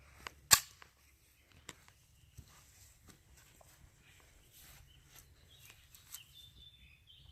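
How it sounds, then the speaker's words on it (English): A single sharp 9mm G2 ammo gunshot cracks into a thick vulcanized rubber tire stopper, loud and brief, followed by faint outdoor ambience, light movement and small clicks. "Gonna see what type of penetration we'll get."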